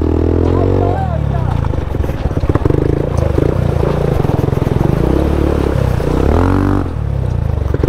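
Off-road motorcycles cross a rough, wet track, engines droning and revving loud and close with clattering through the stretch and a second surge near the end.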